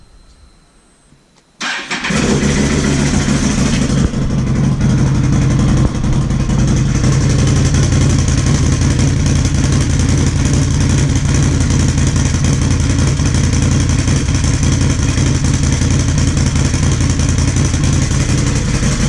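A 2009 Can-Am Outlander 800 MAX ATV engine cranks and fires after a brief quiet moment, then runs loud, close and steady at a rough, throaty idle, with no talking.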